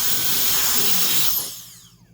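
A SolarEye Ultra Turbine electric air duster blows a loud, strained, hissing whine through its narrowed nozzle, then spins down and fades to quiet.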